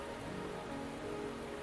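Steady rain falling in the Wuthering Waves video game, a dense, even patter on surfaces that holds at a constant moderate level throughout with no voices.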